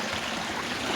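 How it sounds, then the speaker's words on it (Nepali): Mountain stream water rushing down into a waterfall, a steady broadband roar of flowing water, close and continuous without a break. "यही पानी चाहिँ गएर तल झरनाको रूप लिएको छ"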